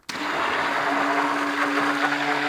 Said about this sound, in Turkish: Ve şimdi bunu pürüzsüz hale gelene kadar blenderdan geçiriyorum.